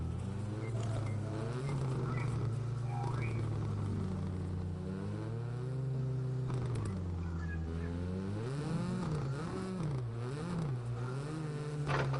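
A Mercedes World Rallycross race car engine revs and surges up and down in pitch, wavering and accelerating, heard at moderate distance at a rallycross event, with no talking.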